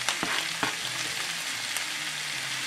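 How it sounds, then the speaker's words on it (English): Scallops and shrimp with peppers, onions and crumbled bacon sauteing in a pan, a loud close steady sizzle with a few sharp stirring scrapes near the start. "we're going to saute that until the scallops are opaque"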